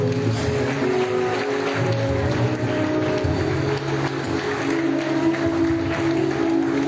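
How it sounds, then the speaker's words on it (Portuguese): A church congregation applauding during a Sunday service, a dense continuous wash of clapping from many hands that fills the room steadily, with faint voices mixed in. "Só você que é grato, aplauda, glorifique."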